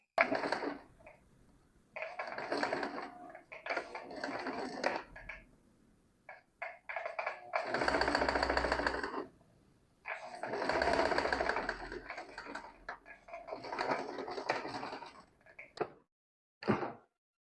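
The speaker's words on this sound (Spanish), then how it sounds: "voy a pasar una costura de zigzag o con la doble aguja por aquí" A home sewing machine runs a zigzag or twin-needle seam along the side edges of stretchy panty fabric, whirring in several separate bursts of a few seconds each with short pauses between, fairly close and moderately loud.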